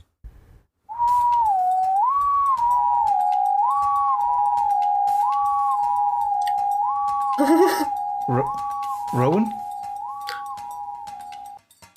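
A voice imitates a distant whistle, sustaining a wavering tone that rises and falls in repeated swoops for about ten seconds, with a couple of brief louder vocal bursts cutting in near the end.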